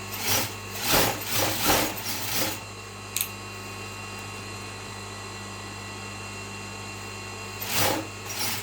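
A sewing machine stitching a blouse piping seam, with several quick, loud stitching bursts near the start and another near the end, and a steady low motor hum in between.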